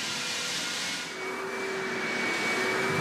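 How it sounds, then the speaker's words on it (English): A small edging sander grinds hardwood floor corners with 80-grit paper, a steady loud broadband roar with a faint whine and a brief dip in the middle. "a smaller edging sander was used."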